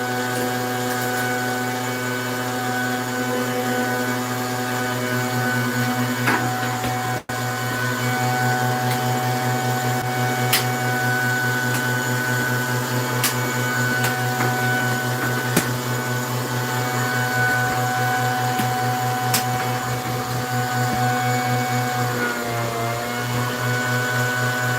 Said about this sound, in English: My pump doesn't sound like it's having a very good time.